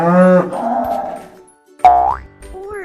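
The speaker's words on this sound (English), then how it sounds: "Buffalo says moo." A buffalo gives a long, deep moo, followed after a short pause by a second drawn-out call that rises in pitch, loud and close with no talking.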